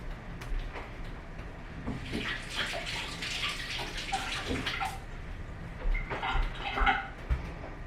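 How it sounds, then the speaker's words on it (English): A peach rinsed under running tap water in a kitchen, a steady splashing flow with brighter splatters as the fruit is turned in the stream, fairly close and without talk. "I'm gonna rinse it."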